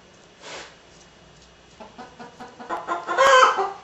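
Roughly a dozen chickens cluck from inside a closet, starting sparse and faint, then building into a denser, louder flurry of clucks and squawks toward the end.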